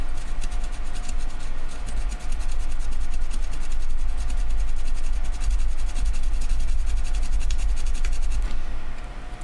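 A fiberglass pen scrubs steadily against Neo Geo console parts in a continuous close rasping rub lasting several seconds, with no talk over it.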